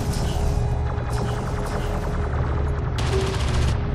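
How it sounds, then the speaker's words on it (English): Rapid automatic gunfire and bursts of shooting from the real-time strategy game Homeworld: Deserts of Kharak, with a sensors post under attack; a dense, continuous fusillade with a sharper, brighter burst near the end. "The sensors post is under fire."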